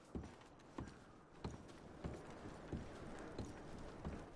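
Hooves clip-clop in a slow, even walking rhythm, about one step every half second, quiet and fairly close, from the video game Red Dead Redemption 2.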